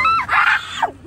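A child lets out a short, close, high-pitched scream that rises, holds, then trails off within about a second.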